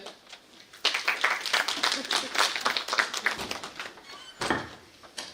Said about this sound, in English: Can we have a hearty clap again?